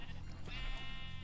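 A sheep in the Minecraft video game bleats once, a short wavering call heard at moderate level against background game sound.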